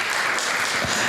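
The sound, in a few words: audience applause at an event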